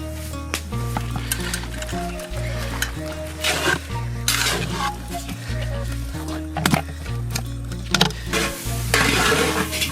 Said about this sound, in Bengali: এটাকে ফ্রাই করে নেব।